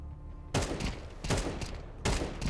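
Gunfire in the video game Counter-Strike comes in three rapid bursts of automatic shots, each a dense, loud rattle separated by brief gaps.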